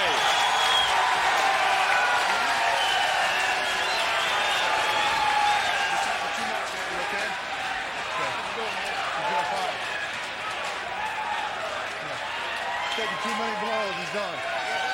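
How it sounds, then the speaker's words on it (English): An arena crowd at a UFC fight applauds and murmurs in a sustained wash of clapping and voices, with a commentator talking over it. "Crowd appreciating that."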